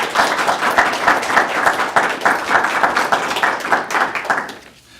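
An audience claps steadily in a hall to welcome a speaker at a talk, the applause dense and sustained, then fading out at the end.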